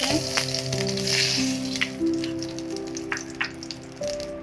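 Ghee heats and sizzles in a pan at the start of making kheer from sama rice, a steady close crackle with a few brief tonal beeps in the background.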